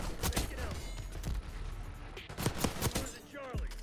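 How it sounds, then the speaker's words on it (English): A rapid-fire Maelstrom shotgun fires in a Black Ops 6 multiplayer match. Sharp shots crack in quick irregular bursts, some close and loud, others lighter, with a voice talking over the gunfire. "that's what it looks like whenever you get shot at a billion times with this poopy shotgun"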